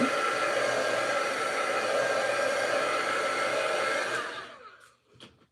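A heat tool blows steadily while melting hot glue strings on a wood round snowman craft, a loud, even whooshing roar that cuts off near the end, followed by brief handling sounds.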